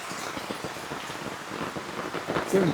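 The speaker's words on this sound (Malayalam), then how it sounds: "നല്ല മഴയുണ്ട് കേട്ടാ" Steady rain patters down in a dense, even wash, with a brief rise in intensity near the end and no voices.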